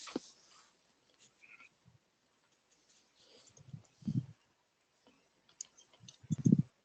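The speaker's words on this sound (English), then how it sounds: "So I'm clicking on show my screen, right?" A computer mouse clicks faintly a few times during a video call, with soft isolated taps separated by quiet gaps and no talking.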